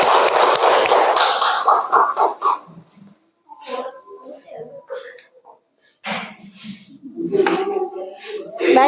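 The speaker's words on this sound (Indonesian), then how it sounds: "silakan tepuk tangan untuk kelompok 3" A classroom of teacher-training students at UIN Mataram claps for group 3 after its presentation: a dense, fairly loud burst of many hands for roughly two and a half seconds that quickly dies away, followed by talking and scattered room noises.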